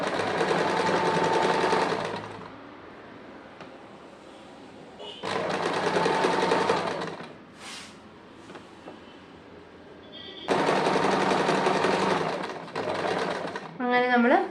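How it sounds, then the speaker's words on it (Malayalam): A sewing machine stitching a fabric sleeve runs in three steady, loud whirring bursts of about two seconds each. Quieter pauses separate the bursts, and the machine is heard close up. "ഇനി അവിടുന്ന് മറ്റേ സൈഡിലേക്ക് ഒരു സ്റ്റിച്ച് കൊടുക്കുക."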